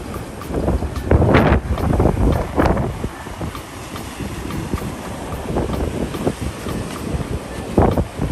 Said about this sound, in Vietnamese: Hôm nay chỉ hơi mưa gió lạnh tí thôi.